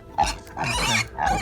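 A young pig with a freshly docked tail grunts and squeals in three short bursts, close by and loud, alone without any voices.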